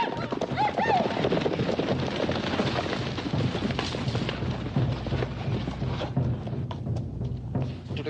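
Horses galloping on open ground in a 1958 Western film, hooves drumming steadily under a dense mix of shouting voices, with a brief whinny early on and some booming in the background.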